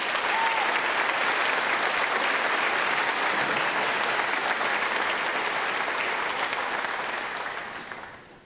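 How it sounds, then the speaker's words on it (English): An audience at a 2022 AHS high school graduation ceremony applauds in a dense, sustained wash of clapping from a large crowd, steady throughout and fading out at the end. "So let's give them a round of applause."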